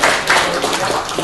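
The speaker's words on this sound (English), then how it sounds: "Give her a big round of applause," Audience at a town planning event applauding, a brief dense burst of clapping heard close and loud.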